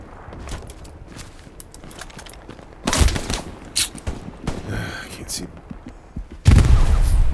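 A grenade blast and bursts of gunfire in the video game Hell Let Loose, with loud booms near the middle and end and shouted talk between them.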